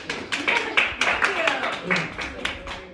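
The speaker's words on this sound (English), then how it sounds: "Everyone, round of applause, please." At a Meade County Master Minds gathering with guest speakers, a small audience gives a round of applause, with distinct, uneven claps sounding close by, mixed with people talking.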